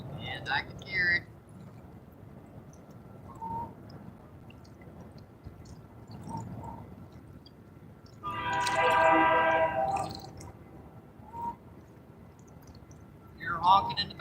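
Distant train horn by a river, a sustained harmonic blast rising in the middle and shorter toots at the start and end, with people talking quietly over outdoor ambience.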